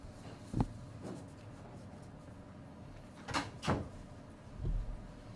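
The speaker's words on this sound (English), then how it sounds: "Shut this door" An interior door is shut in a small office at a police briefing, several dull thuds and knocks spaced out over a few seconds, close by and fairly loud against a quiet room.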